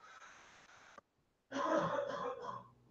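A man coughs during a podcast-style tabletop game discussion, a sudden loud raspy burst after a brief silence, close to the microphone and following faint background talk.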